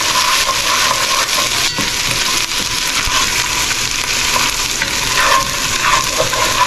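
Muri ghonto ingredients fry in a pan with a loud, steady sizzle and repeated stirring scrapes, close and continuous, with no talking.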